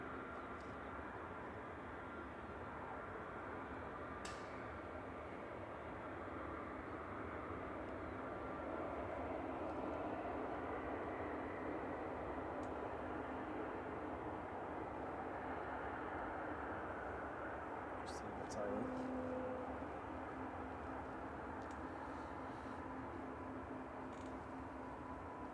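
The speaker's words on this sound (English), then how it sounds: "Qatar is lining up. Okay, final departure of the stream for us." A Qatar Airways Boeing 787-9 Dreamliner departing Manchester Airport for Doha makes a faint, distant, steady engine hum with a low drone and a few brief clicks.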